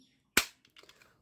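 A toy revolver fires once with a single sharp, loud crack that decays quickly, followed by faint handling clicks and rustles.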